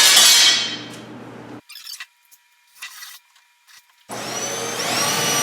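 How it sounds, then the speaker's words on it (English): A drill with a 9/16 bit boring holes near the edge of a barrel, loud and close, whining for about a second and a half. Short clanks and handling noises follow before the drill starts again and runs steadily. "So I'm going to drill as close to the edge here as I could get"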